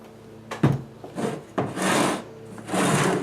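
Several short rasping, rubbing strokes of a Jeep axle shaft turning in a needle bearing hub, metal against metal, each lasting about half a second, close up with brief pauses between them.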